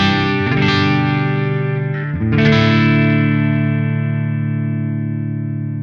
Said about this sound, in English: here's my dry signal. The pedal is off, and I am in the neck position pickup